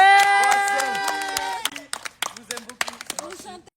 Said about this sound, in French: On peut applaudir Axel.